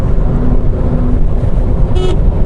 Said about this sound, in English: it's a really silly horn